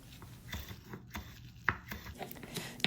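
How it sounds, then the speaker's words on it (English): A sharp knife chops through fresh basil and sliced garlic on a board, giving irregular close taps and cuts with soft leafy rustling between strikes, moderately quiet, no talking. "using a sharp knife, just chop up the basil"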